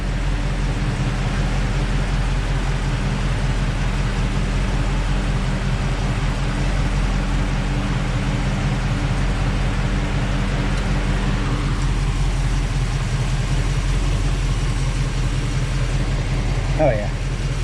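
The 440 engine of a 1970 Dodge Challenger R/T idles with a steady low rumble while the radiator fan adds a constant whooshing hum, close and continuous.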